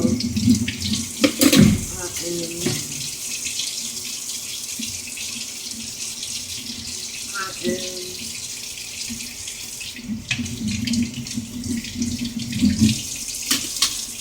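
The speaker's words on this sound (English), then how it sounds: "Just washing these utensils that I got in the sink." Tap water runs steadily into a kitchen sink while utensils are washed, a continuous close splashing stream with occasional clinks and brief bursts of louder flow.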